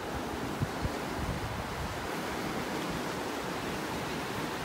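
Ocean waves wash onto a beach in North Naples, Florida, a steady broad surf roar with some wind buffeting the microphone.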